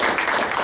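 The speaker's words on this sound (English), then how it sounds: "Let's give him a round of applause." Brief burst of audience applause for a speaker at a talk on environmental audits, a dense wash of many hands clapping together, fairly loud and close.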